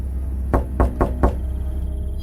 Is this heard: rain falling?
no